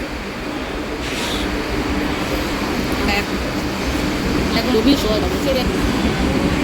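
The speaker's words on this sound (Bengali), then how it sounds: "তো আমাদের এই মেট্রো আসছে" A Kolkata metro train pulls into a station with a broad, steady rumble that grows slightly louder, and voices murmur on the platform.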